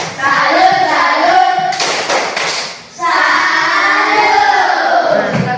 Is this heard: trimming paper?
no